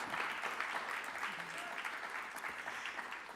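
An audience at a faith and genomic research panel gives a big round of applause for a panelist, steady faint clapping that continues throughout with a few voices underneath.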